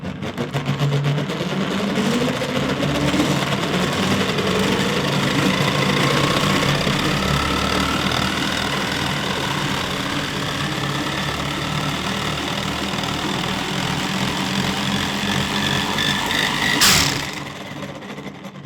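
A homemade electric generator spins loudly and steadily with a rough, knocking mechanical drone, with a rising whine as it runs; near the end a sharp burst marks a magnet flying off before the whirring winds down.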